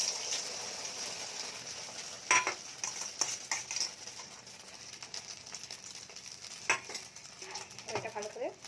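Beaten egg seasoned with salt and ground black pepper sizzles steadily in hot oil, a continuous frying hiss broken by a few clinks and scrapes of a utensil stirring in the pan.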